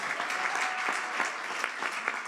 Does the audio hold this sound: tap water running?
no